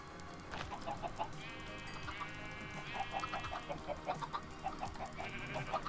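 Chickens in the farming video game Go Create cluck in a steady stream of short, repeated calls. The sound is quiet and sits over a busy background of game sounds and music.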